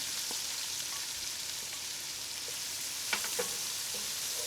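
Onions fry with whole spices in a pot, a steady, quiet sizzle throughout, with a few soft clinks of stirring near the end.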